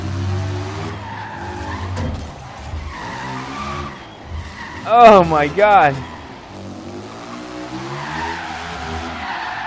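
A Reliant Supervan with an old motorbike-style engine drifts in Forza Horizon 3, its tires skidding and squealing in wavering bursts over a buzzing engine drone, while someone talks over it and exclaims.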